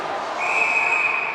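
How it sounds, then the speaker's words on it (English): Referee's whistle at a high school boys ice hockey game, blowing play dead for offside: one sustained shrill tone of about a second over a steady arena crowd murmur. "As a whistle blown here offside the call"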